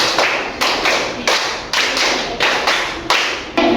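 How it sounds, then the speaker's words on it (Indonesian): A classroom of students claps a five-beat pattern in unison twice, with sharp, loud, evenly spaced claps and no talking. "Jadi kita berikan tepuk 5 2 kali."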